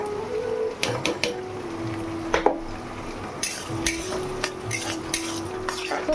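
Vegetables with cashews and raisins stir-fried in ghee in a full wok for fried rice, a steady frying hiss broken by repeated scraping clinks of a spatula against the pan, close and fairly loud.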